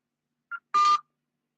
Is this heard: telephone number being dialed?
yes